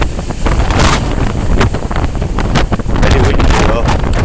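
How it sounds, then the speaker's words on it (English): Strong wind buffets the microphone by the sea on Blackpool pier, a loud, continuous roaring rumble with gusts and the wash of waves beneath, steady throughout with no talk. "Very windy though."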